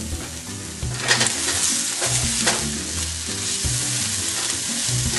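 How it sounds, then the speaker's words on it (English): Ground meat browns in a frying pan with a loud, continuous sizzle, broken by the scrape and clatter of stirring, heard close up with no talking. "So what we're doing here is browning the meat that we set aside earlier."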